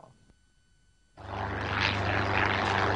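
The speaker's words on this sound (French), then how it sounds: "un avion léger Cessna qui atterrit sur la place rouge" A Cessna light aircraft landing on Red Square, its propeller engine starting abruptly into a steady, loud droning roar after a quiet moment.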